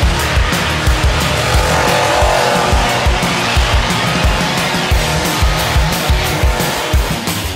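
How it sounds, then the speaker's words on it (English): An Instigator monster truck spins a donut at the Barbados Festival of Speed, its engine roaring loudly and its tires squealing steadily with rhythmic surges as it circles. "Simon says do a donut, and they did."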